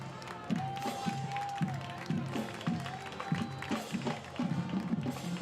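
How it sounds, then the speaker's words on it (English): Fans of the Tioga high school football team cheer and applaud in a crowded stadium on senior night against Peabody, a broad sustained roar with claps, while a commentator talks over it and a whistle sounds faintly. "Tioga fans are cheering this"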